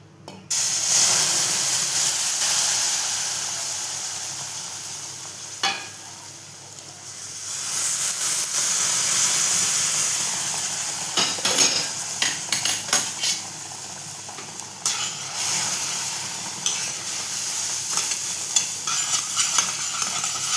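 Boiled water and milk poured into semolina roasting in a hot pan for mango sheera: a loud burst of hissing steam and sizzle that settles into bubbling and stirring scrapes, with no voices.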